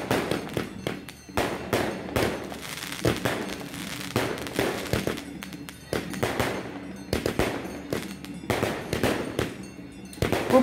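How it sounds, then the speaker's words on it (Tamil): Fireworks burst in rapid, irregular volleys at a Karuppannasamy temple Muppoosai festival in Tamil Nadu: loud, sharp cracks and booms follow one another almost continuously, with brief gaps between clusters. "ஆரம்பித்ததுலேருந்து இப்போ வரைக்கும் இன்னும் வான வெடிக்கை பலமாகவே"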